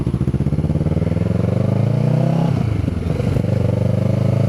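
A Kawasaki Z650 motorcycle engine runs loud and close with a rough, pulsing exhaust note, climbing in revs and then settling back to a throbbing idle.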